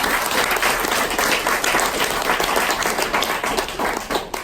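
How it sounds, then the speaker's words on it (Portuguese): A church congregation applauds for the Lord, a dense, continuous wash of clapping from many hands that stays loud and steady throughout, with only faint voices mixed in. "Você pode aplaudir ao Senhor?"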